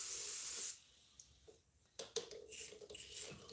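A spray bottle of 99% alcohol gives a short, sharp hiss of mist into a bowl, followed by quieter soft spritzes and faint rustling close by.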